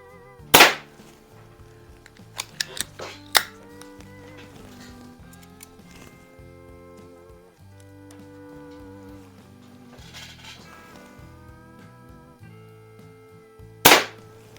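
A Hy Score model 800 air pistol fires pellets, giving a few sharp, isolated cracks spread well apart over background music.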